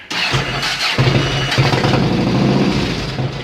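A Yamaha XV1600 Road Star motorcycle engine starting on its newly installed carburetor with the choke pulled, cranking in a few loud bursts before catching into a rough, uneven run up close.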